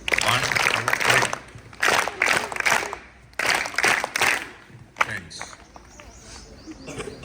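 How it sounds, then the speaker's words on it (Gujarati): A group at a school gathering claps together in short rhythmic bursts, several sharp unison claps in clusters, fairly close and loud, with crowd noise between the bursts. "એટલે પોતાના માટે આપણે 9 તાળી પાડીએ."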